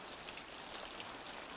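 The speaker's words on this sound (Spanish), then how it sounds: "Otra vez empieza a llover." Rain begins falling outdoors in the Australian bush as a steady, soft hiss of drops, even and continuous with no voices.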